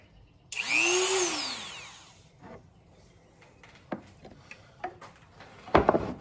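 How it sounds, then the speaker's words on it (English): A handheld Dremel rotary tool whines up loudly for about two seconds, then drops to a lower hum with scattered short clicks and bursts of grinding contact, ending with a sharper rattle. "So I'm sorry if this is loud. Dremel."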